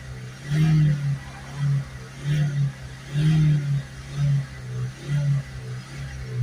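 A Honda CR-V 1.6 diesel engine with a blocked DPF is revved repeatedly, about once a second, each rise swelling and dropping back to idle, moderately close with no talk.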